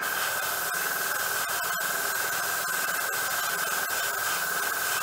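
Airbrush spraying paint onto a 1/35 scale HobbyBoss IDF Nagmachon armoured vehicle model, a steady hiss with a constant tone and faint clicks, close and uninterrupted.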